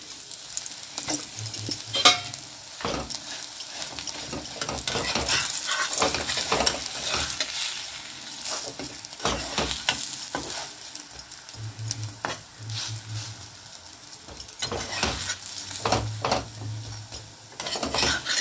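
Vegetable paratha frying in oil in a pan: a steady close sizzle throughout, broken by repeated scraping and stirring strokes of a spatula against the pan, with no voices.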